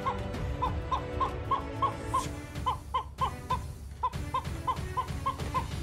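Chickens cluck repeatedly in a coop while a python swallows one of them, producing a steady series of close, rhythmic clucks with no talking.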